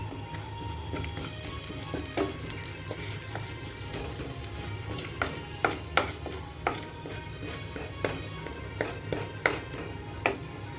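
Mustard seeds and cumin frying in hot oil for an aloo beans curry, quiet sizzling under a hum with scattered sharp pops and crackles growing more frequent toward the end.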